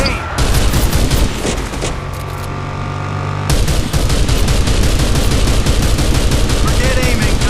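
Gunfire in a driving video game, with rapid bursts of shots blasting away in dense continuous volleys, loud and close, briefly easing before resuming.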